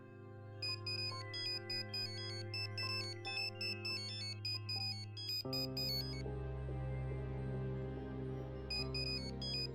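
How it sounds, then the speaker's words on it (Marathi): A melodic electronic phone ringtone plays a repeating tune of bright tones, steady and fairly quiet, changing pattern partway through. "साधक दळवींचा फोन"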